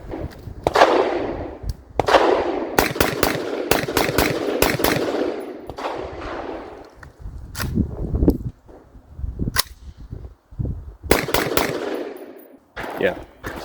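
A PSA .223 Wylde upper rifle kit on a Palmetto lower fires with sharp, loud cracks in rapid strings, broken by pauses where light primer strikes cause misfires, then resumes with a few more shots.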